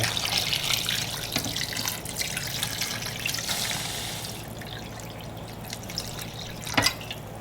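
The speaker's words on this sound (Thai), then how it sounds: "เราก็ใส่น้ำลงไป" Water poured into a pot of pork being braised for a black pepper soft-bone pork stew, a steady splashing, trickling stream running continuously at close range, with a brief clatter near the end.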